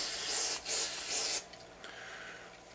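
Carb cleaner sprayed in three strong, hissing bursts onto the crankcase halves and parts of a CY 23cc two-stroke engine during a rebuild, followed by a quieter, softer spray.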